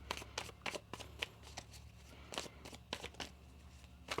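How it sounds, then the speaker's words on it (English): Tarot cards being shuffled by hand, a faint run of soft papery riffles and taps repeating irregularly over a low steady hum. "One more shuffle."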